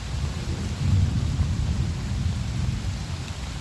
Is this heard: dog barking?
no